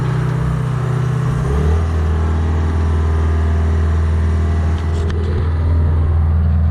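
A Gradall G660 excavator drives forward and back, its engine a loud, steady low drone close by, with a shift in pitch early on and a few faint clanks later.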